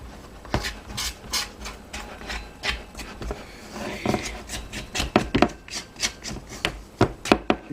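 Sticky honey white bread dough scraped out of a mixing bowl, a series of close, short scraping and rubbing strokes at an uneven pace with no talking.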